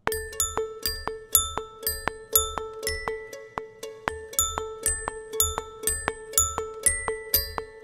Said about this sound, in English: A little xylophone.